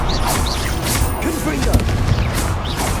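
A Confringo explosion spell in Hogwarts Legacy, a continuous dense barrage of booming blasts and crackling impacts that stays loud and steady throughout, with a voice speaking over the din.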